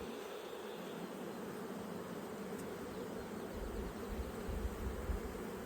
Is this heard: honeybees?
yes